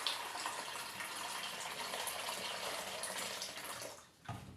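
Water poured into a container or dish, a steady close splashing trickle lasting about four seconds before it stops, followed by a short knock.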